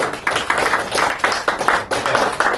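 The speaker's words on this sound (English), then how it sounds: "Can I just have you guys give them a quick round of applause?" A small robotics team gives a quick, loose round of clapping, with separate handclap bursts in an uneven rhythm over about two and a half seconds at close range.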